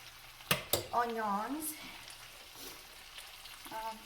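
Onions frying in a skillet, a soft steady sizzle under a few sharp utensil knocks, with a person speaking briefly over it.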